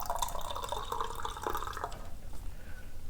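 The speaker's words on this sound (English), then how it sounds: "Let's put some water in there." Water is poured into a cup of marine collagen powder. A steady, close splashing trickle runs for about two seconds and then trails off into quieter drips and liquid noise.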